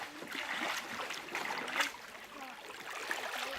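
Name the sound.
paddling a canoe on a river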